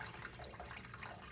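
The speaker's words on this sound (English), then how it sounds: "I'm gonna pour some water out of here back into the sink so it's not as soupy." Water pours from a cooking pot of ramen into a kitchen sink, a soft, steady splashing stream that runs quietly and evenly with no break.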